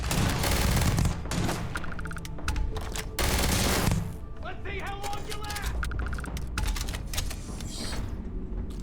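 Gunfire from a fully kitted-out gun in the sci-fi video game Starfield, dense bursts of shots and impacts under battle music and effects, with character voices speaking over the fight.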